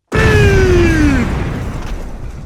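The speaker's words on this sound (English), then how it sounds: "press the red button to destroy the world. Kaboom!" A loud, sudden booming explosion in Pokemon Y with a descending tonal whine layered over it, the rumble decaying slowly over about two seconds.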